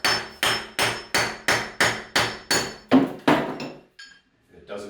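Eight to nine sharp, evenly spaced hammer taps ring out on a chisel being driven behind ceramic wall tiles to pop them off, each strike bright and metallic, followed by a couple of softer knocks.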